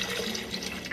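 Chicken stock pours steadily into a pot in a continuous close splashing rush of liquid, with no pauses across the short stretch.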